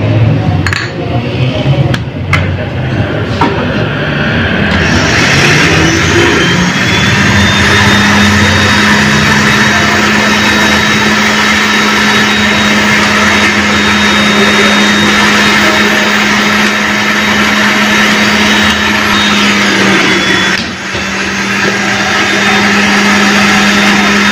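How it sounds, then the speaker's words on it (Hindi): A mixer grinder whirs loudly and steadily while grinding coriander and fenugreek seeds, a sustained motor drone with faint rattling of seeds, running close and continuous with a brief dip near the end. "ये देखें जी, ये ग्राइंड हो रहा है"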